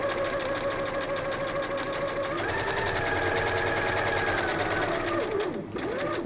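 Sewing machine stitching the seam of a drawstring bag, a steady close rapid mechanical whir with a fast regular needle rhythm and a change in pitch partway through, then a brief slowdown near the end.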